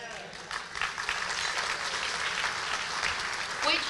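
An audience at a youth talent show applauds its young volunteers and performers, a dense, steady wash of many hands clapping throughout, with a slight swell near the end and some voices mixed in.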